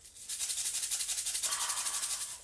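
Homemade rice shaker shaken rhythmically after a brief pause, giving a soft, hissy, even rattle up close, gentler than a bean-filled one.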